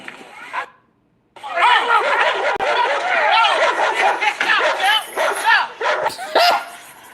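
A grown man imitates a dog with a string of barks, yips and whimpers, loud and close, preceded by a brief snatch of talk and a short pause.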